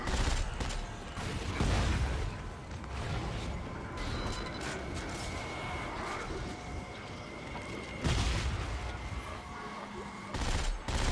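Gunfire in the sci-fi horror game Dead Space 3, bursts of shots mixed with mechanical clanks and creaks, moderately loud over a busy, noisy backdrop.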